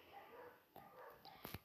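Dogs bark outdoors, faint and distant yips and barks scattered over steady background noise in a room with a game running.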